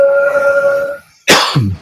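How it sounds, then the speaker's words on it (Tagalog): A steady tone fades out, then after a short pause comes a single sharp, close cough or throat-clearing burst. "Medyo inuubo pa tayo."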